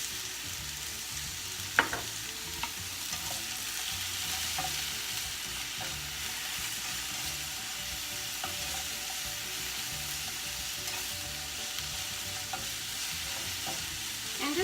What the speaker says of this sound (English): I'm gonna grill the salmon in the same skillet